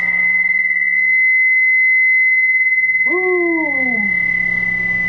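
Electric guitar plays through a vintage Rickenbacker TR14 amp with reverb set near 6. A steady amp tone and hum are followed by a single note sliding downward and fading into reverb, with no one talking.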